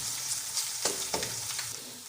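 Garlic ginger paste frying with onions in a pan while cooking chicken matar pulao, giving a steady close sizzle with a few brief stirring scrapes and no talk.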